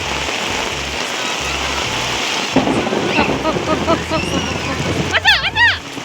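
Rain pours steadily outdoors as children play with toy boats in a ditch, while a low rumble of thunder rolls underneath and children's excited voices and shouts come in over it.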